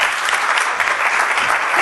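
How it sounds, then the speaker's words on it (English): An audience at a talk breaks into steady, dense applause, loud and continuous throughout with no voices over it. "I would hold your applause till the end"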